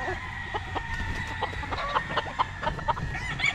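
Game fowl roosters at a game farm cluck in a close, busy chorus, with overlapping short calls and clucks repeating steadily throughout.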